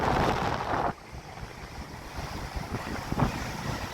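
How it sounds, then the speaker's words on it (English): Heavy wind gust batters the microphone on a Cornish beach at Bude, then drops to a lower steady roar with surf wash and small renewed gusts near the end. "you can probably hear that wind roaring"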